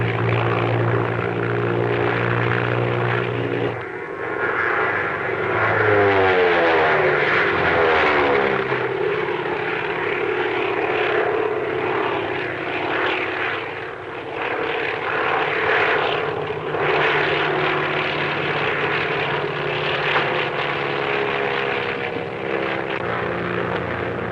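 A propeller-driven airplane engine drones steadily in flight, loud and continuous, with its pitch shifting partway through as the aircraft maneuvers.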